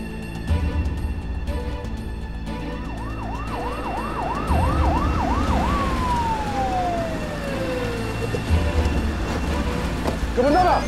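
A police car siren wails close and loud, first warbling quickly up and down and then sliding into one long falling tone. Road noise and other background sounds run beneath it.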